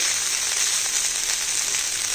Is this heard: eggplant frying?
yes